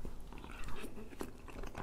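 A bite into a cheeseburger topped with ketchup and pickles, with close, moist crunching and chewing that runs through the moment, alone with no talk.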